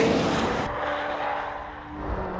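A McLaren Senna, the 789bhp hypercar, drives on the smooth, wide international circuit at Silverstone. Its engine sound is loud and broad, and it shifts partway through to a steadier tone with a lower rumble near the end.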